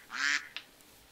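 Duck quacking in the Minecraft video game: one loud, bright quack followed by a short, softer second call, close and alone with no talk.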